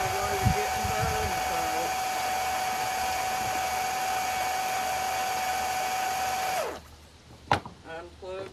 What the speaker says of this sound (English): That pump is loud.